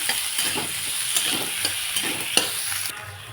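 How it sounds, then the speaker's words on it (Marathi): Capsicum and onions fry in a pan, a steady sizzle broken by several sharp scraping stirs of a spatula, close and moderately loud with no voices. "टाकते मी त्याची शिमला मिरची शिमला मिरचीला पण छान फ्राय करून घेते"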